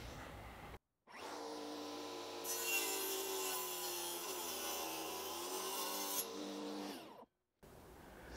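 Saw blade barely kissing a wooden board while cutting parts for a piano stand, a steady close whirring grind with a brighter rasping rise in the middle, starting and stopping abruptly with no talk.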